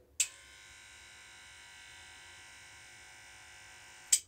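Star Max Edition hair clipper switched on and running with a steady, even electric buzz, quiet overall, with brief louder clicks at start and end.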